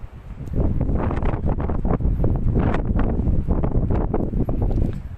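Steady wind buffeting a microphone, a continuous loud low rumble with gusty fluctuations throughout, no voices.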